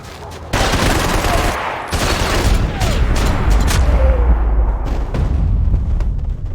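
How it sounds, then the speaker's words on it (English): Loud, dense gunfire in the video game Max Payne 3 rattles in sustained bursts of rapid shots and booms with little pause, close and overwhelming throughout. "Gunfire over Hoboken."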